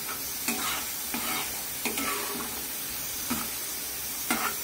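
Food frying in a little oil in a pan for a prawn fry gives a steady close sizzle, with a spoon scraping through it about once a second.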